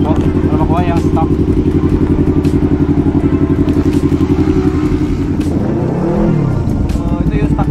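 A Yamaha MT-03 motorcycle engine on its stock ECU revs loudly up close, with a steady throbbing idle that rises and falls in a sweeping rev near the end, a faint voice briefly audible beneath.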